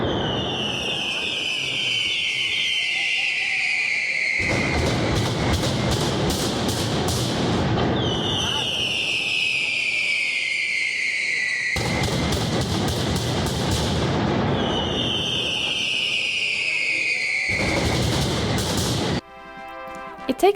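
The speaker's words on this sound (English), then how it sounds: "by rhythmic explosions of firecrackers and fireworks" Rhythmic firecracker explosions crackle at the Fallas festival in Valencia, dense bursts of rapid bangs in repeated waves, with whistling rising tones between volleys and a crowd murmuring at the end.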